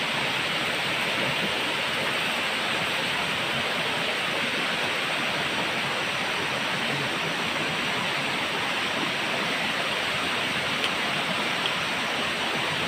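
Water flows steadily in an outdoor stream, a dense, unbroken rush that stays close and constant throughout with no voices.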